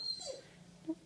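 A family dog whimpers, sad while its people are away: a couple of short, soft, high whines spaced apart, faint and close against a quiet room.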